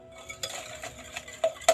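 A spoon or whisk stirs eggs, sugar and oil together in a bowl, light clinks and scraping taps against the sides, close and fairly quiet.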